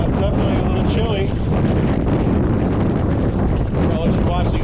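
Strong, constant wind roars across the microphone aboard a sailboat in a 40-knot snowy blizzard at high latitudes, a dense, loud rush that barely eases from moment to moment.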